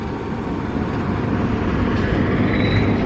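The Taksaka passenger train passes Cipinang, a steady, loud rumble of rolling wagons that swells slightly and holds for the whole stretch, with no voices.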